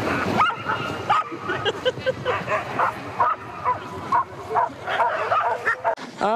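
Samoyed dogs at a dog race in Abakan yip, whimper and bark in excited, repeated bursts close by, while people talk and call out around them.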